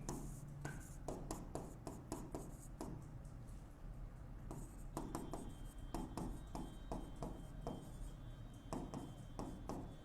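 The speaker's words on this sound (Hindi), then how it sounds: "लिख दो इधर" A pen scratches across paper while accounts are noted down, close and quiet, in quick irregular strokes with short gaps between bursts of writing.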